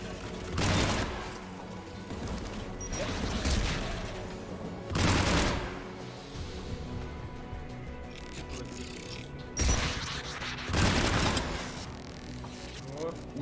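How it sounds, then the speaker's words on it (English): An anti-aircraft gun firing in Mass Effect 3, loud bursts of rapid fire recurring every few seconds with quieter ambient noise and mechanical sounds between them. "There's the AA gun."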